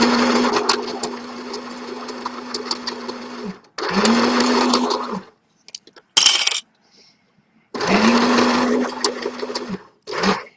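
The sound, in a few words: sewing machine stitching tie dye fabric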